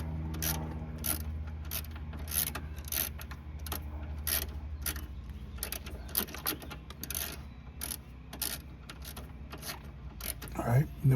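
A hand ratchet works a 10 mm bolt loose near the motor mount of a Ford Focus, giving rapid, repeated close clicking strokes in bursts over a low background hum.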